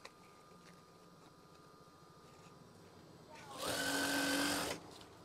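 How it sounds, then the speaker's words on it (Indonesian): A sewing machine stitches curtain fabric in one short, loud whirring burst of about a second, following quiet background with faint speech. "Kemudian jahit saja secara perlahan tetapi pasti."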